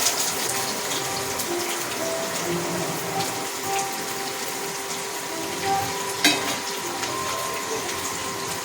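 Thinly sliced onions go into hot oil and fry with a steady, dense hiss that barely changes, broken by one brief clatter partway through.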